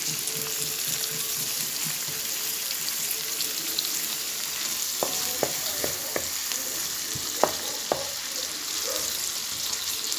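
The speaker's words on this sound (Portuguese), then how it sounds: "Vou deixar a cebola e o pimentão fritando, né, na manteiga" Onion and bell pepper fry in butter in a pan, a close, steady sizzling crackle with a few sharp clinks of a utensil, no talking.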